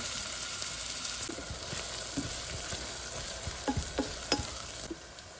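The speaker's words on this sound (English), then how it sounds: "we're gonna saute this onion for about 5 minutes" Half a chopped onion sautés in about a tablespoon of oil, giving a steady, close sizzle with occasional scraping stirs that land as short clicks toward the end.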